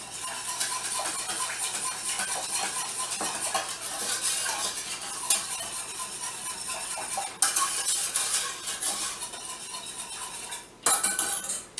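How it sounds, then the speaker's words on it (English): Pork mixture whisked in a bowl, a steady rapid scraping and clinking of metal against the bowl throughout, near and fairly loud, with brief pauses near the end. "We're going to switch to a whisk to bring this together."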